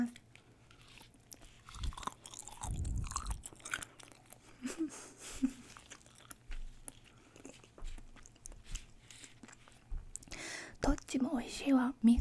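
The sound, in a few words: eating peeled crayfish caught in a river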